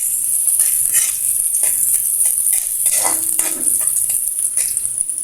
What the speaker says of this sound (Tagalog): bawang at saka sibuyas. Ayan. Gigisa natin ito hanggang sa mag-brown mga sis.